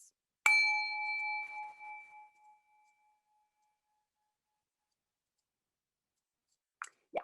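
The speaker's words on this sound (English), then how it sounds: "I'm going to give it a gong." A single gong strike opens a meeting: one clear metallic hit that rings and slowly fades over about two seconds into near silence, followed by faint sounds at the very end.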